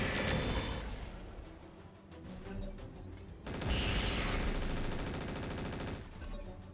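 Turrets open fire on mechs in the RogueTech mod of the BattleTech video game, a dense, loud stream of rapid gunfire and heavy impacts rolling on continuously, with a fresh, stronger volley partway through and no talk.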